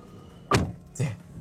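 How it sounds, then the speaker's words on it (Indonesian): A Daihatsu Rocky Hybrid car door shuts with two solid, close thunks about half a second apart in a quiet outdoor test-drive area. "suara ketika nutup pintu gitu ya"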